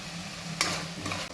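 Onions with curry leaves and salt sauté in a pan, giving a soft steady sizzle with a sharper stirring scrape partway through and another lighter one near the end.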